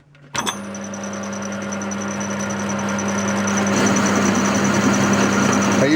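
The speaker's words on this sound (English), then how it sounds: "The last stage is to just bore out the hole in the centre where the motor shaft will come through." A 12 mm milling cutter boring out a pre-drilled 8 mm centre hole in a fractional-horsepower motor end shield, a steady machine whine with a sharp onset that grows slightly louder as the cut continues, alone with no talk.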